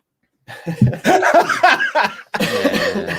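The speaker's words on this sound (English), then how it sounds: "you made me cough" A person nearby coughs in a rough burst, then breaks into laughter and chuckling.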